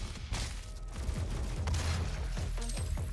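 Shotgun fire in the PC game Doom, level Meltdown: a rapid cluster of booming blasts and thuds running across a few seconds, loud and close with a crackling edge.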